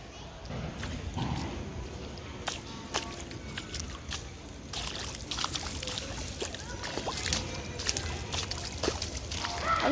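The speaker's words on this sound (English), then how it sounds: "I'm just splashing and walking" Footsteps splash through rain-soaked grass with standing water, a series of uneven wet sloshes and drips, close by and fairly quiet.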